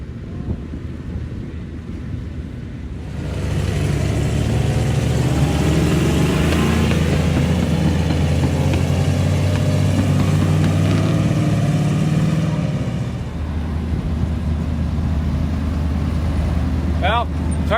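A heavy truck strains to pull a wrecker tow truck out of a mud bog. Its loud, rough engine roar swells and holds for about ten seconds, then drops back to a lower rumble.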